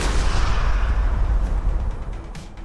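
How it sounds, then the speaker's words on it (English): Explosion sound effects in an indie Christmas video game, a loud rumbling blast with heavy low-end boom and crackling debris that rolls on for a couple of seconds before thinning out, with a sharper burst near the end. "Mix some explosion noises right up."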